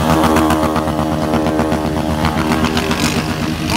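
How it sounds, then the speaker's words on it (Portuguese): A motorcycle with a Fortuna exhaust revs loud and close, holding a steady, buzzing engine roar throughout with no pauses. "Fortuna é o melhor escapamento que existe."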